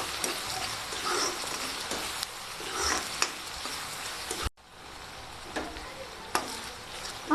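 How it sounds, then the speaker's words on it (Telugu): Onions with a little salt fry in a pan for chicken curry, a soft continuous sizzle broken by ladle stirring scrapes and taps, briefly dipping quieter midway. "ఆనియన్స్ కొంచెం వేగినాయి కదా"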